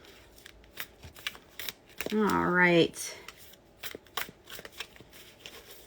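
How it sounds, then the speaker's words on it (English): Oversized tarot cards are shuffled by hand in a brief ruffling riffle of stiff card stock, followed by scattered soft taps and flicks, close and clear; a voice speaks briefly. "I'm going to have sloppy shuffling going on here"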